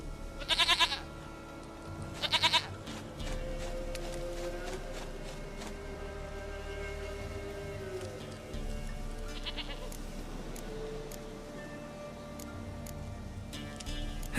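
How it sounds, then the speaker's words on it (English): Goats bleat in The Witcher 3 over a faint in-game ambient backdrop, with a few short bleats near the start and another burst partway through, each loud and close. "Goat of mine, dearest, sweetest goat."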